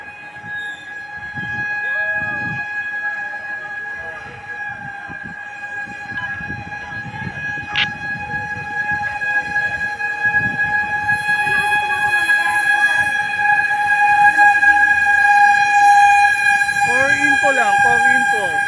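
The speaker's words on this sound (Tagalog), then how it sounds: "fire truck ng San Juan at ng Santa Ana." Fire trucks arriving at a fire in Taytay, Rizal, with sustained siren and horn tones growing louder over crowd noise and people talking.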